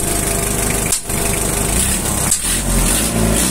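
A 4DR7 diesel engine runs with no smoke, humming at a steady, loud, close level, with two brief dips in speed before it picks back up.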